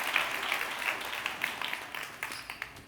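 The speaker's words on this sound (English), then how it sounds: "Give her a big round of applause." An audience at a keynote talk gives a round of applause, a dense wash of clapping from many people that gradually thins out near the end.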